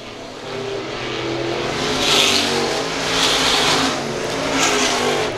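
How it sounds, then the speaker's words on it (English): 350 Super Modified race cars racing a heat at a speedway, a loud continuous engine roar that swells three times as cars sweep past, with high-pitched revving over a constant low drone. "Domination here in heat race for the 350 Super Modified."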